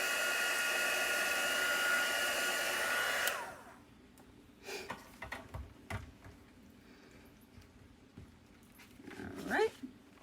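A hair dryer blows loudly and steadily on chalk paste for about three seconds, then cuts off, leaving soft handling noises, scattered clicks and a brief dog whimper near the end.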